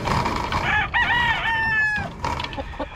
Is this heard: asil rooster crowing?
yes